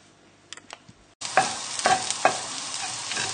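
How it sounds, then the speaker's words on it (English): Garlic and shallots for a fish cassoulet hit a hot pan: a few faint clicks, then a sudden burst of steady sizzling frying with occasional crackles and stirring scrapes, close and moderately loud. "as soon as we hear it start sizzling properly, you'll know that the garlic and the shallots are just starting to cook"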